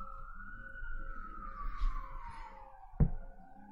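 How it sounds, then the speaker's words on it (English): An ambulance siren wails outside, one long tone sliding slowly downward as it passes at a distance. It stays faint and fairly steady, and a single dull thump lands near the end. "Here comes the ambulance for my next opponent"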